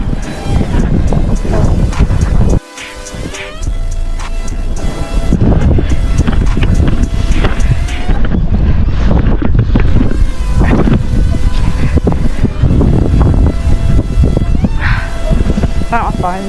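Heavy wind roars into the microphone during wet and windy dirt jumping on a dirt jumper bike, a loud continuous buffeting rumble with gusty surges and brief dropouts throughout.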